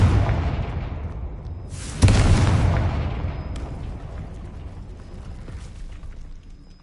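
A Confringo explosion spell in a Harry Potter video game sets off a sudden loud boom with a crackling burst, then a long rumbling decay that slowly fades over a few seconds.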